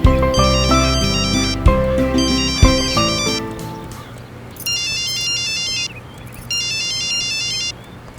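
A mobile phone ringtone for an incoming call in a Hindi drama scene: a bright, melodic electronic tune rings out, then gives way to repeated high chirping beep bursts over a low hum, with no voices.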